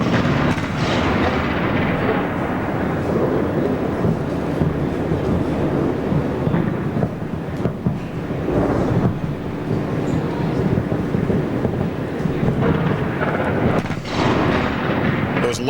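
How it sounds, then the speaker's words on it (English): Dense, continuous rumbling roar with scattered dull booms and bursts, like distant anti-aircraft artillery fire and explosions echoing across Baghdad during the Iraq War. "The lesser explosions would appear to be the anti-aircraft artillery fire coming from various points around Baghdad."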